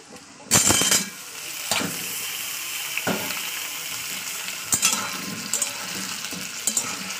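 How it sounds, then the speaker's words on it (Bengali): Steady sizzling of potato pieces frying in a pan, with a few sharp clatters of stirring and a loud splash of hot oil at the start. "আমি এই পর্যায়ে প্রথমে আলুর টুকরোগুলোকে দিয়ে দেবো, দিয়ে ভাজা করে নেবো।"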